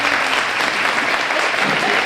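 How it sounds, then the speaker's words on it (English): Steady, loud applause from the audience at a fiber arts guild fashion show, dense clapping holding an even level from start to finish. "So we especially want to give her a big round of applause."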